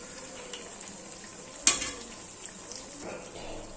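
Malpua made from wheat flour sizzling steadily in a pan of hot oil, with a ladle stirring through it and one sharp metallic clink midway, quiet and close.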